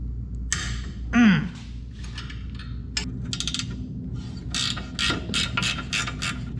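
A wrench with a leverage bar works on a bolt on a 1992 Toyota pickup, giving a series of sharp metallic clicks and ratcheting snaps, with a brief creaking squeal early on, close and fairly loud.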